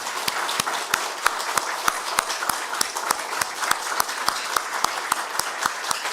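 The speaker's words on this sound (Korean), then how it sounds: "축하의 박수 한번 보내주시기 바랍니다." Congratulatory applause from the congregation at a Korean church ceremony installing a pastor: loud, sustained clapping with sharp, evenly spaced claps cutting through the steady crowd noise.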